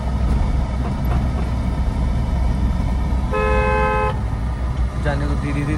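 A car horn honks once in a narrow village lane, a sustained toot of about a second that rises over steady engine and road rumble.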